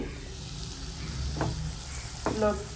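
Onion and black pepper frying in a pan, with a soft, steady sizzle and a few brief scraping stirs of a utensil, close but fairly quiet.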